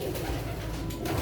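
Indian pigeons coo in a low, continuous murmur close by, a soft rolling drone with faint background noise and no voices.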